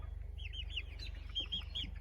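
Several backyard chickens cluck softly at bedtime in a quick run of short, high calls over a low steady hum.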